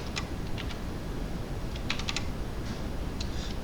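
Light, scattered keystrokes on a computer keyboard while code is typed, a few quick clusters of clicks over a steady background hiss.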